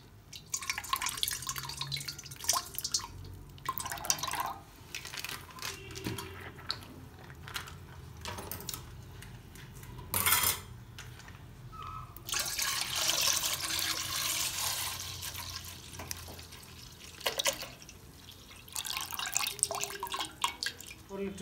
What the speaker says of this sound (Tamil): இப்போ சேமியா பால் பாயசத்துக்கு நம்ம 1 லிட்டர் பால் ஊற்றுறோம்.